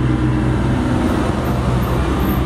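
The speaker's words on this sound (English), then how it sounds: "Pardon the noise, seemed to be a busy road today." Busy road traffic, a loud continuous roar of passing cars and heavier vehicles close by with no break.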